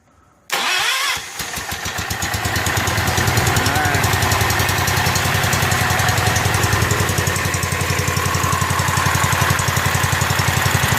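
A rebuilt Kohler K241 engine on a John Deere 210 garden tractor cranks briefly, catches and settles into a loud, steady, rhythmic running close by.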